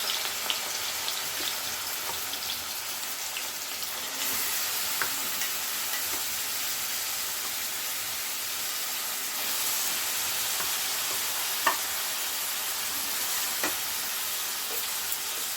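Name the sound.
radish being fried and stirred in a pan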